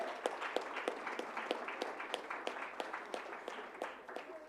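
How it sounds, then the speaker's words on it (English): Faint, distant applause for Rochester City School District supporters at a board business meeting, a thin scattering of claps repeating steadily in a reverberant room. "Can we give our group of supporters of the Rochester City School District another round of applause?"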